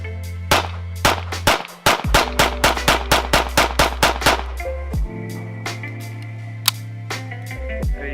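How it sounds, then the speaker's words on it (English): Rapid string of about fifteen sharp, loud pistol shots from a Sig Sauer P226 emptying its 15-round magazine, fired in quick succession close by with ringing echo between reports. "we got to do a mag dump here on the channel, and I do like 15 round mag dumps"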